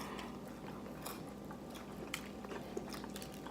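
Someone biting into and chewing a fried chicken wing coated in Flamin' Hot Cheetos, close and steady crunching with faint crackly bites over low background noise.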